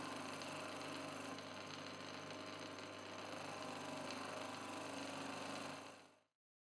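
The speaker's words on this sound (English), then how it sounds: "This system allows me to sharpen almost any kind of wood turning chisels." Homemade grinding wheel sharpening wood turning chisels, a steady loud whirring grind that runs without a break for about six seconds and then cuts off abruptly.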